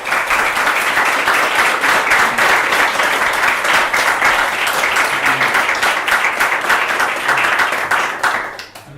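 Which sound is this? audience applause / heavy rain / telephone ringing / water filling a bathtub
audience applause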